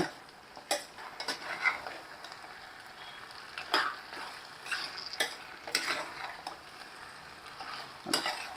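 Mutton coated in masala is stirred in a pan over a full flame for a white mutton kurma, with intermittent spoon scrapes and clicks over a soft, steady sizzle heard close up.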